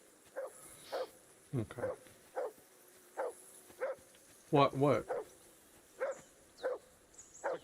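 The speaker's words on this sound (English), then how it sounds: "Call off that damn dog before he wolfs down the last of our mates." A dog barks repeatedly in Kingdom Come: Deliverance II, short sharp barks at a steady, insistent pace, one louder growling outburst midway, with brief speech in between.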